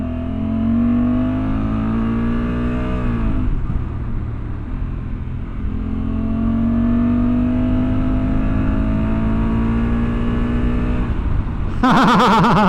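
A 2024 Honda Africa Twin motorcycle engine in tour mode accelerates loudly and close, its pitch climbing through the gears with a brief drop at a shift before rising again.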